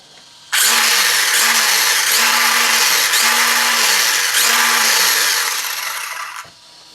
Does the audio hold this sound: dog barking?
no